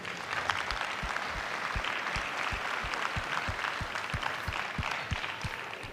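A large arena crowd at a livestock summit evening at the Zénith d'Auvergne applauds agricultural high school students, dense continuous clapping with a rhythmic low thump beneath it.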